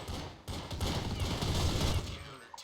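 Dense rapid gunfire from a video game fills the moment, a continuous loud fusillade of overlapping shots with a brief drop early on, a faint voice underneath.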